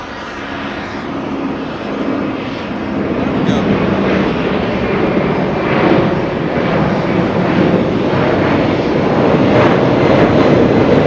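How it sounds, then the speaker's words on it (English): Engines of an Airbus A300 at Los Angeles International Airport give a loud, continuous broadband rumble that builds gradually and stays close throughout, with a faint voice now and then. "that was an Airbus A300."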